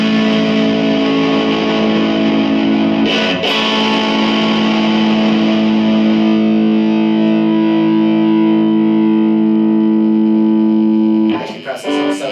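A Session Rockette 30 guitar amp on its dirty channel plays a long sustained, heavily distorted chord with high gain, loud and steady, before a scrape and a new strum at the end.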